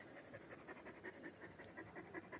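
A female dog pants quietly and close by, with quick, even breaths repeating steadily and no other sound over them.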